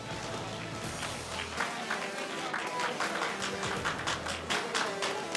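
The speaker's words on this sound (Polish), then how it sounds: "Wielkie brawa dla zawodników, dajcie im trochę otuchy!" A crowd at a slapfighting event cheers and claps for the fighters, a dense, continuous wash of applause and shouting throughout, with a loud announcer's voice over it.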